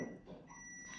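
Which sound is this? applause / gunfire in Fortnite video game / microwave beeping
microwave beeping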